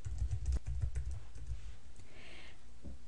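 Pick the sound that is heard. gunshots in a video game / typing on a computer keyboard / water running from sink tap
typing on a computer keyboard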